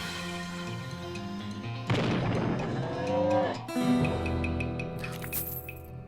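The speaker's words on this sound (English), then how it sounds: "Ambushed by a cow who's hiding behind a nearby billboard." Cow mooing in the video game West of Loathing, a loud sustained bovine lowing with harmonic bellows repeated over several seconds, set against game music and crashing impact effects, no talk.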